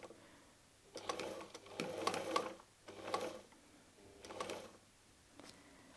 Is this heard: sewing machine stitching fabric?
yes